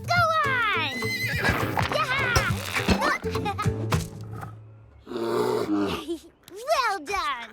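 A cartoon horse neighs and whinnies loudly several times, rising shrill cries mixed with quick hoofbeats and galloping, alongside lively animated voices and speech.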